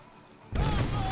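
Ship cannons fire in the naval video game Skull and Bones, a sudden loud booming blast after a quieter half-second, followed by a sustained heavy rumble.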